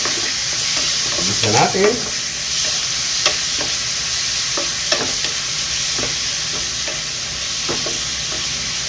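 Pork meat frying and sizzling in a pan for a dish with saba banana, with steady crackle, a louder burst of sizzle early on and occasional stirring clinks, while a voice speaks briefly.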